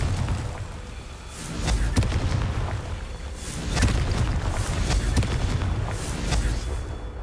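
Fiery Confringo explosion spells from the Hogwarts Legacy video game, a series of booming blasts with sharp cracks spaced a second or so apart over a rumbling low roar, loud and close.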